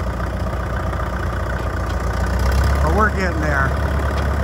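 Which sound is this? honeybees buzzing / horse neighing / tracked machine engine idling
tracked machine engine idling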